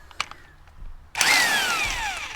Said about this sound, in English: the only real way to get this front sprocket off is with an impact